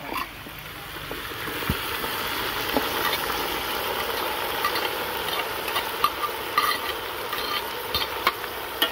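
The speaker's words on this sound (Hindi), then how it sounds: "और अभी चिकन को भी थोड़ी देर के लिए फ्राई कर लेंगे।" Marinated chicken frying in a pan, added after tomatoes were softened, gives a steady broadband sizzle with scattered crackles and a few soft stirring knocks, close and continuous throughout without speech.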